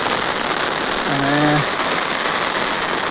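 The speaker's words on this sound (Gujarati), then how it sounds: "વરસાદ પણ આવે છે" Steady rain pours outdoors on a route toward a dam, a continuous close hiss with a short tonal honk in the middle and a voice speaking briefly.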